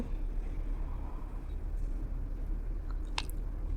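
Spice paste being ground by hand on a traditional bata grinding stone, a close, steady rubbing and scraping texture that continues without pause, with a couple of faint brief clicks near the end.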